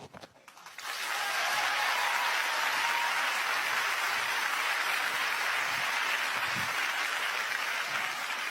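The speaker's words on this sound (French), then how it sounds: "la première fois, vous entrez en scène et un public vous applaudit" An audience applauds a performer walking onto a stage: loud, dense clapping that swells in after a brief quiet start and holds steady and close throughout.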